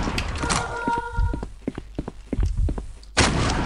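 Gunfire in the video game Requiem: Avenging Angel during a boss fight, a run of sharp separate shots in uneven rhythm, with a brief tone and bursts of game noise around them.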